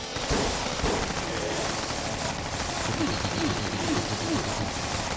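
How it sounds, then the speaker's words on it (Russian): Dense rapid machine-gun fire in the game Tequila Zombies 2 rattles almost without pause, game-style bursts layered over a busy noisy background, with scattered whooping tones breaking through. "пушка, пулемет, берем пулемет, быстро"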